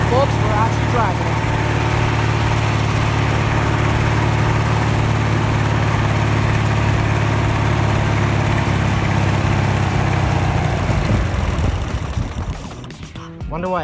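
A revived vehicle engine runs steadily and loudly while driving, with a constant low drone for most of the stretch before it cuts out near the end, and voices faintly mixed in.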